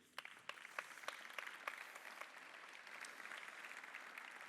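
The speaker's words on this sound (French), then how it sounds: "On peut applaudir son directeur" A school audience claps for the director at a French education event, steady scattered applause with distinct sharp claps at first, filling the room for several seconds at moderate volume.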